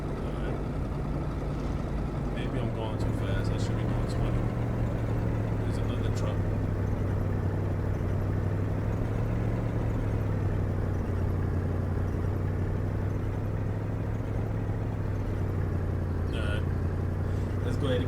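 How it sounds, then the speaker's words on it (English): A truck engine drones steadily while driving in the video game Kona, a loud continuous low rumble whose pitch shifts slightly as it goes, with faint clicks over it. "The truck was running on fumes."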